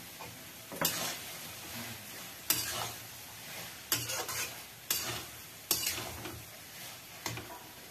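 Fat fries in a pan under a low, continuous sizzle, with about six scraping stirs at roughly one-second intervals rising briefly above it, close and quiet.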